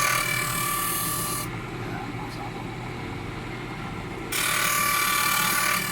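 A tari, the steel gaff blade used in cockfighting, is rubbed against a sharpening stone in a steady, close scraping rasp that runs continuously and changes tone partway through.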